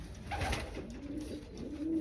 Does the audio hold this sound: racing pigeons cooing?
yes